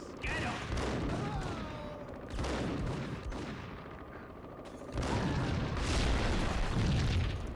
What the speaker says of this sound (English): Things are exploding.